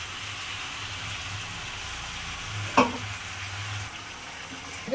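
Ginger-chilli paste sautéing in a pan: a soft, steady hiss of frying runs throughout, with one sharp clink of a utensil near the middle, close and moderate in level, with no talking.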